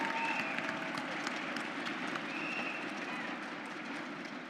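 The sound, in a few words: audience applause for a speaker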